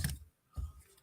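Two short, crisp snips of paper being cut, spaced about half a second apart, close and fairly quiet with no talking.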